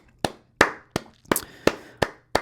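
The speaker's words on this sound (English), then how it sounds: "I continue to clap because they just continue to do it every year." Slow, single hand claps ring out one at a time, roughly seven sharp close slaps spaced about a third of a second apart, each with a short decay, with no voices.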